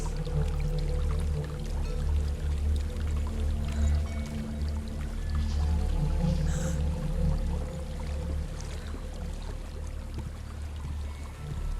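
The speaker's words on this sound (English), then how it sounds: "There's a waterfall." A waterfall in Hellblade: Senua's Sacrifice rushes steadily throughout, a dense continuous roar of falling water under faint sustained tones, with no speech.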